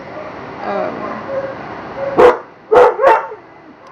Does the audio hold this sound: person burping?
no